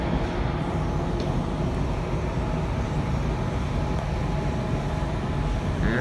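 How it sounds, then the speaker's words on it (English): A tram rumbles steadily past close by, a continuous broadband roll of wheels and motor lasting several seconds with no voices. "Just hope that they have a tram running today."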